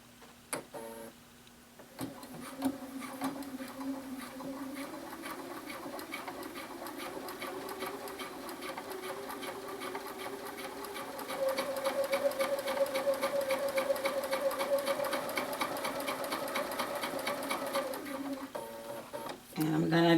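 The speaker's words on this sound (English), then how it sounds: "I'm just going to sew around the entire neckline using this guide." A sewing machine stitches around the entire neckline of a Lark Tee t-shirt at a stitch length of 3, humming steadily with a fast tick of the needle for nearly the whole stretch, running louder toward the end.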